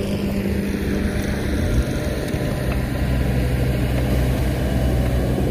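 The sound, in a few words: Kubota excavator engine while swapping buckets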